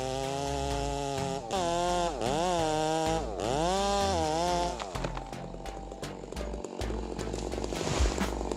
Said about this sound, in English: The Stihl MS660 chainsaw is truly powerful, able to fell large trees in just minutes.